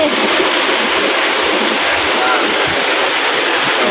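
Tat Yeuang waterfall near Pakxong in Laos pours with a loud, constant roar of falling water, a dense, unbroken rushing wash that holds steady throughout.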